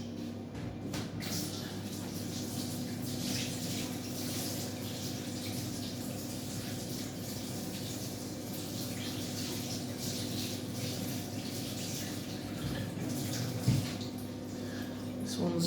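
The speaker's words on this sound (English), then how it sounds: "Give it a wash, sorry, and then I'll cut it into wedges." Fennel is washed under a running kitchen tap, giving a steady, soft hiss of flowing water with light splashing that continues evenly throughout.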